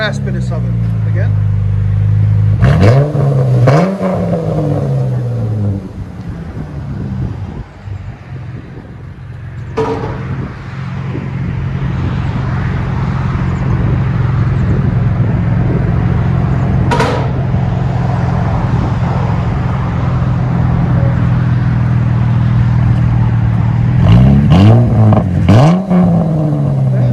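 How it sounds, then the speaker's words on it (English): Close, loud idle from a Dodge Challenger V6 running Dynomax race bullets exhaust, with a couple of quick throttle blips early on and another pair of revs near the end, over a long stretch of steady rumble. "There's the race bullets. We'll let you guys hear it in a second."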